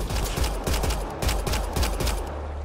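Enemy gunfire in Mass Effect Andromeda during an assault on a Kett stronghold, rapid bursts of automatic shots cracking in quick regular succession, loud and close, with no talking over it.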